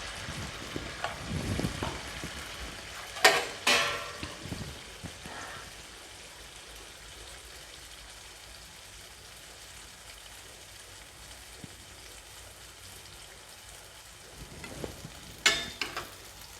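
Wheat appam batter frying in hot coconut oil, a steady soft sizzle throughout with a few louder clatters of a utensil near the start and end, no talking.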